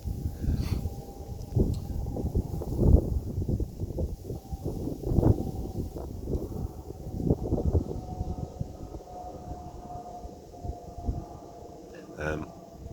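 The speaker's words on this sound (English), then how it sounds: "Sorry about the wind again. Early in the morning when I come up here it is windy." Gusty wind buffeting the microphone in low rumbling bursts throughout, with a faint high tone lingering in the background.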